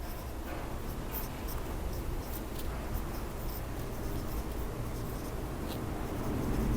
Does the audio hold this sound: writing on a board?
yes